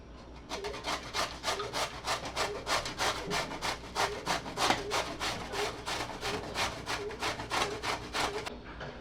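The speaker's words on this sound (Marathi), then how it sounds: "आता हा दुधी किसून घेते मी" Bottle gourd being grated by hand on a grater for savoury gourd squares: a steady run of quick, rhythmic rasping strokes, close and fairly loud, with no talking.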